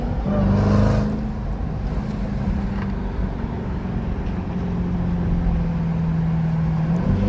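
A widebody Jeep Trackhawk heard from inside while driving, with a steady engine drone and a high supercharger whine that rises and holds, loud and continuous.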